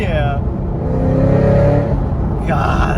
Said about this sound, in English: those rev match downshifts are just music